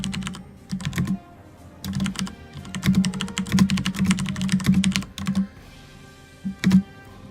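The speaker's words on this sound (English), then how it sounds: "my keyboard is clickier than I thought" Clicky computer keyboard typing in bursts of rapid, sharp keystrokes with short pauses between, close and fairly loud, with no talking.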